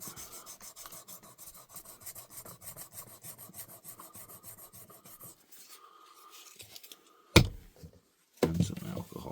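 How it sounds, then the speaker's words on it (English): Hand sanding with 2000 grit wet-dry sandpaper during reconditioning of a Kirby Sentria vacuum, a rapid, rhythmic rubbing rasp that runs steadily for several seconds, then stops and gives way to a few louder handling knocks. "I'm going to try this with some 2000 grit"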